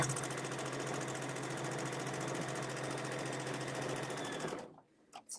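A domestic sewing machine doing free motion quilting runs in a steady, fast, continuous stitching whir for about four and a half seconds, then stops abruptly, leaving quiet with a few small clicks.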